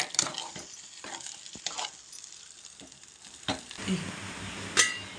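Fish curry being stirred in a pot, with intermittent scraping and clinking of a utensil against the metal, soft bubbling beneath, irregular strokes close by and no speech.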